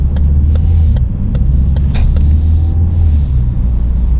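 A Ford Focus accelerates along a road, its engine and tyres making a loud, steady low rumble inside the cabin, with a few faint clicks and passing traffic noise.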